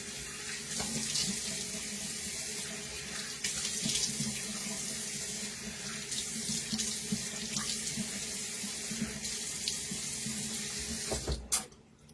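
Water running steadily from a tap while skincare is washed off, a close continuous gush with slight splashing changes, ending with a brief clatter as it stops; no talk.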